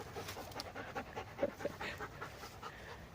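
A dog pants quietly during a forest walk, quick soft breaths against a hushed outdoor background, faint and without talk.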